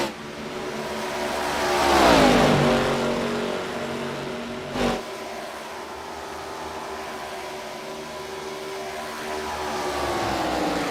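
ARCA stock cars racing at Texas: a loud engine roar sweeps past close by, rising then dropping in pitch, followed by a sustained drone of engines that swells again toward the end.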